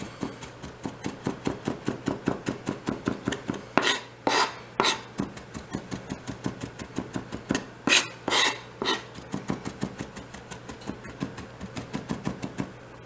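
A knife rapidly chops and minces garlic on a cutting board in quick, even rhythmic taps, close and crisp, with occasional louder scraping strokes as the pieces are gathered.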